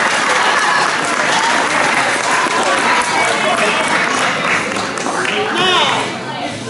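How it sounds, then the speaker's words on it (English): A crowd at a band awards banquet gives loud, sustained applause. Dense clapping fills the room without a break, and there is some chatter and cheering mixed in. "just give them a round of applause, because I think they've earned it"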